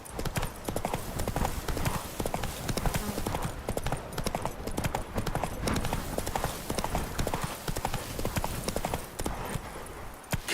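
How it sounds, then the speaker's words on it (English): Roach the horse's hooves clip-clopping steadily in The Witcher 3 video game, a continuous loud rhythmic trot lasting throughout with brief voice lines over it. "Come on, Roach"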